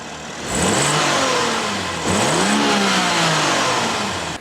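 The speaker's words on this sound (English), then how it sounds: "I'm just going to quickly do a stock rev without the intake" A 2022 BMW G42 M240i on its stock intake revs twice, each rising sharply from idle into a loud, sustained mid-range engine roar that holds and then eases, heard up close with no talk.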